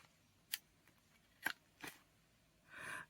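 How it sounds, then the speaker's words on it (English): Small scissors snip the corners off paper for a junk journal: a few quiet, sharp cuts spaced about a second apart, ending in a longer rustling slice. "I'm gonna cut off the corners with just a tiny little"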